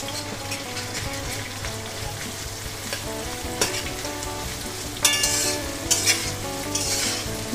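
Potatoes and chopped onions fry in a pan with a steady crackling sizzle as a spoon stirs, scraping the pan in occasional louder strokes, up close and with no voices.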